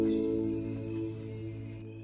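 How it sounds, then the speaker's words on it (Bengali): Crickets trill steadily and fairly close in the quiet hills around a cottage retreat at Panbu, Kalimpong, then cut off abruptly near the end. "সারা দিন ঝিঝি পোকার ডাক"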